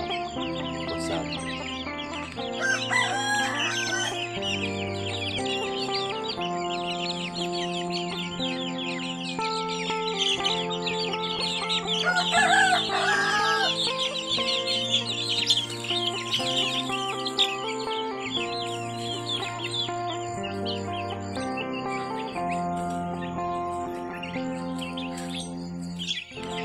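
Young free-range village chickens cluck and chirp continuously at close range, with occasional longer calls rising over the flock and no talking.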